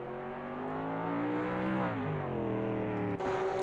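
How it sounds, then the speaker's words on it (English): A GT3 race car engine in a racing video game at the Adelaide circuit drones steadily, with sustained revving that rises and falls in pitch as the car runs, loud and continuous throughout. "I can hear a car in front"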